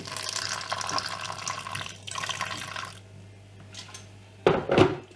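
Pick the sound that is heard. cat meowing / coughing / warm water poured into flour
warm water poured into flour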